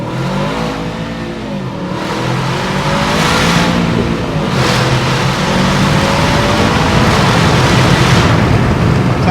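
An Aston Martin DBX 707 with open exhaust accelerating hard in a tunnel, a loud, booming engine roar climbing in pitch through gear changes with crackling bursts, heard close through an open window.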